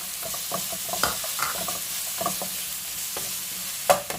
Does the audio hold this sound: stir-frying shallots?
yes